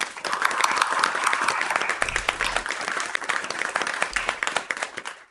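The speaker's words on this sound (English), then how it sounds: "A huge round of applause for API." An audience gives a round of applause after a spoken English speech, dense steady clapping from a crowd that stays loud for several seconds.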